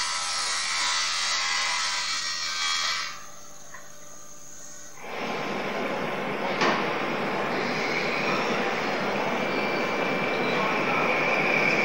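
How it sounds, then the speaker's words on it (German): Plexiglas is sawn in a plastics processing plant: a steady, harsh machine whine drops out for a couple of seconds partway through, then resumes as a dense, continuous cutting roar. "Etwa wie hier durch Sägen."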